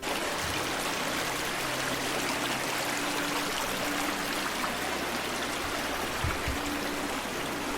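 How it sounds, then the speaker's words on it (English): A low creek running shallow after a dry spell beside a gravel hiking trail near Sitka, Alaska, gives a steady, soft broadband rush and trickle, continuous and moderately distant, with no talk. "You see the creek there to my right is really low."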